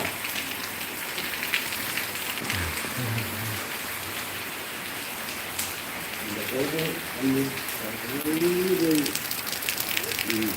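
Steady rain falling outdoors, a constant dense patter throughout, with bird coos and calls rising over it in the second half.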